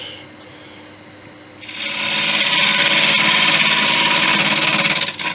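A wood lathe spins up and cuts into a piece of driftwood, a rough steady whirring scrape that starts after a quiet idle and holds loud and close, with no talk.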